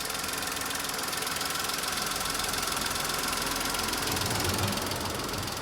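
A petrol BMW car engine idles with a small belt turning, a steady, close, even mechanical hum with a faint ticking knock that continues unbroken throughout.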